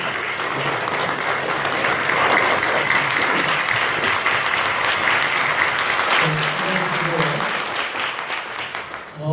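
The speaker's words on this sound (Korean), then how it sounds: "축하격 크게 박수 한번 치겠습니다" A large church congregation, standing, claps loudly and continuously, sustained applause that swells then gradually tapers off near the end.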